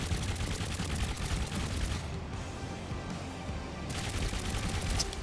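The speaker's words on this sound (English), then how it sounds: "Oh, no, you hit me with a rocket." Rapid, dense bursts of gunfire and explosions from a Trailmakers multiplayer dogfight between aircraft, loud and continuous, with a brief muffled dip midway as a rocket strikes a plane.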